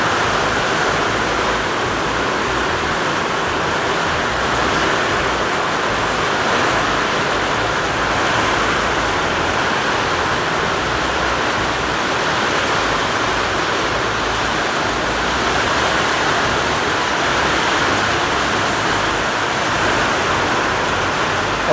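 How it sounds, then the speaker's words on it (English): Heavy rain driven by wind pounding on a roof with whirlybird vents during a thunderstorm, a loud, dense, unbroken hiss and roar lasting throughout with no talking. "I don't think you're going to hear much other than the rain."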